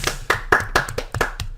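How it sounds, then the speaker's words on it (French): Several people clap their hands in short bursts of sharp, close claps with uneven rhythm and brief pauses between them. "On applaudit Resto."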